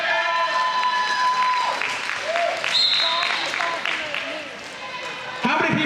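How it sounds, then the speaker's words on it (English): Crowd applause at a roller derby bout, with scattered clapping and a few whistles and cheers in a large echoing venue, a voice briefly audible over the noise. "Applause if you saw road signs."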